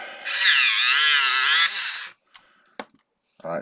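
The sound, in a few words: electric pencil sharpener sharpening a pencil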